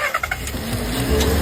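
A car with a fault that stops it starting at night cranks in several quick stuttering bursts, then its engine catches and runs with a rising rumble, loud and close, with no voices.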